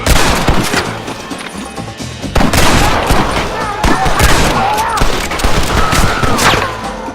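Rapid bursts of gunfire from a Red Dead Redemption shootout, dense and loud volleys of shots and booms filling the scene with little pause, a voice faintly mixed under the barrage.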